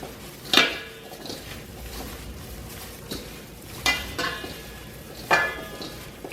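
Tuna salad with lemon is mixed in a bowl, a metal utensil clinking sharply against the bowl three times at spaced intervals over a soft background of scraping.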